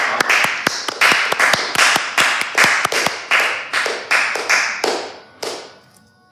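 A studio audience claps in rhythmic unison to welcome a comedian onto a Brazilian TV stage, about three slow, even claps per second, loud and steady before breaking off near the end.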